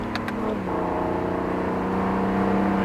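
Car engine pulling steadily under firm throttle, a loud, close drone whose pitch holds and climbs slightly, with no one talking.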